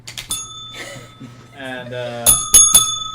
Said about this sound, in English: Hit the bell. Hit the bell.